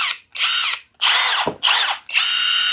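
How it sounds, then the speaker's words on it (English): A Milwaukee 3/8 inch compact power tool, likely a ratchet, runs in several short bursts of high whirring motor whine separated by brief pauses, loud and close with no talking. "This is the Milwaukee 3/8 inch compact."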